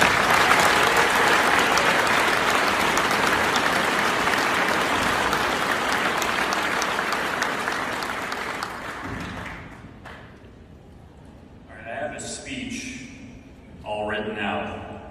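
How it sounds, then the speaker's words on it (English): Sustained, loud applause from a seated audience at a San Francisco ceremony for the city's mayor and fire department, fading after about nine seconds. A voice then speaks over a quiet room. "clapped for the elected officials"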